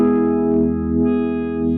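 Electric guitar run through a Cornerstone Aquarium univibe pedal with the mix knob at 50%, a sustained chord shimmering with gentle swirling modulation, steady and close, no talking.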